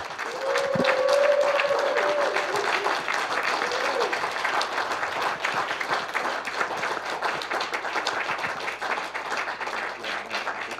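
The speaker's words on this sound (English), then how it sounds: "give him a big round of applause" An audience applauds as speaker Justin Teoh is brought on stage: dense, sustained clapping fills the room for about ten seconds, loudest near the start and holding steady, with a brief voice and whoop in the early moments.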